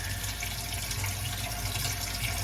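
Water from a tap runs steadily while a wig is rinsed under it, a continuous close splashing hiss with no voices.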